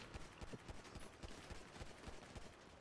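Rapid automatic gunfire in a video game, a quick regular string of faint, distant shots rattling off steadily for about three seconds.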